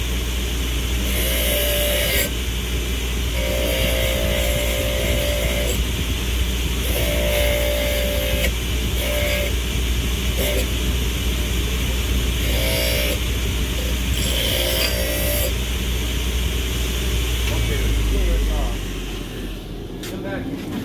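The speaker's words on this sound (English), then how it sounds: "Now we'll sharpen that knife." Knife made from a horseshoe being sharpened on a grinder in a farrier's setting: a continuous loud mechanical drone with repeated grinding passes, under a person talking.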